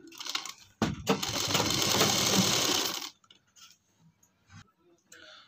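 An electric sewing machine stitches a pajama seam in one steady, loud burst of rapid whirring lasting about two seconds, then stops, followed by faint handling clicks.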